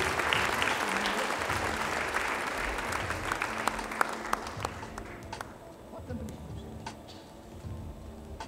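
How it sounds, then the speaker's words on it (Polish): An audience at a high school ceremony applauding a graduating class, a broad wash of clapping that is loudest at first and thins to scattered claps, with a voice speaking over the fading end. "Wielkie brawa dla tej klasy i dziękujemy"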